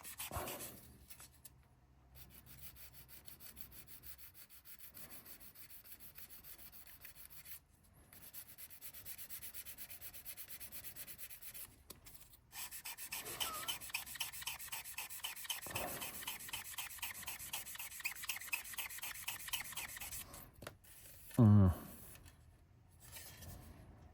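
Soft, intermittent rubbing and scraping of a foam-backed sanding stick on a hard plastic Fujimi Nissan Skyline BNR34 scale model, in short bursts with pauses between.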